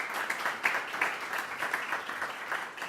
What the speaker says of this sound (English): So a little round of applause there right off the bat.